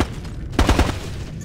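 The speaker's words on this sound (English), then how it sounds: "I'm taking fire." Gunfire in the video game Ghost Recon Advanced Warfighter 2: a quick cluster of three or four loud, punchy shots close together, rising sharply over a steady low background of battle ambience.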